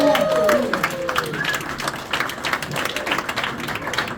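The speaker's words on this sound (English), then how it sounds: "A round of applause for all 3." A short burst of audience applause at a magic show, loudest at the start and thinning slightly, with a few whoops over the clapping.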